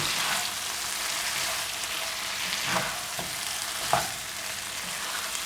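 Prawns roasting in butter in a pan over low heat, a continuous close sizzle broken by a few scraping stirs of the spoon, with no talking.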